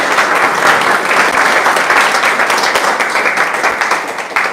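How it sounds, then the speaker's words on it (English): An audience at a live spiritual conversation event gives a warm welcome to the speaker, Linda Staudt. The applause is loud and sustained, a dense wash of clapping that holds steady and then eases slightly toward the end. "Please, a warm round of applause and welcome for Linda Staudt."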